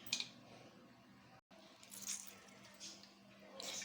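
Bitter gourd (karela) pieces being squeezed by hand to press out their bitter water, giving soft, wet squishing bursts and faint drips. The bursts come at irregular intervals and are quiet and close.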